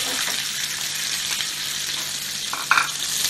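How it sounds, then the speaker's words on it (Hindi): Chopped onions fry in a pan with garlic, ginger and cumin, giving a steady close hiss of sizzling oil throughout, with a couple of brief stirring scrapes near the end. "प्याज थोड़ा गोल्डन ब्राउन करना है इसलिए। ये भून रहा है"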